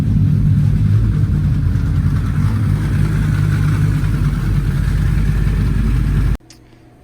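A healthy Volvo 850 T-5R engine idles steadily and loudly up close, a continuous low rumble that cuts off abruptly near the end.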